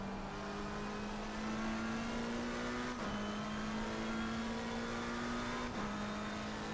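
A BMW GT3 race car engine in Assetto Corsa Competizione drones at high revs with a steady tone, and its pitch shifts abruptly at two gear changes.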